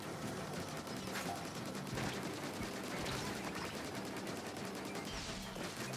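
Weapons firing in Splatoon 3's Eggstra Work mode, a dense continuous stream of rapid repeated shots with splattering effects, steady and fairly quiet, no talk.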